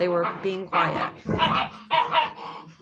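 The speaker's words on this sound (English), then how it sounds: "Sorry about the dogs, you guys." Dogs bark and yip in short bursts indoors, mixed in with someone talking continuously over them.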